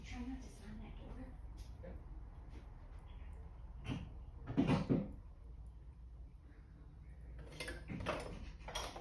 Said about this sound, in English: Try not to slam that door.